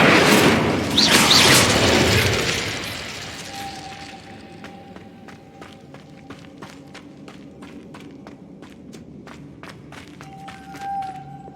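In Hogwarts Legacy, a loud whooshing burst of the Incendio fire spell opens, then fades into quieter crackles, thumps and light footsteps that carry on afterward.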